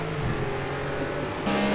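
GT3 race cars in a Hockenheim GP round of a racing video game, engines droning steadily at moderate volume with a brief rise near the end as one passes, no talk over them.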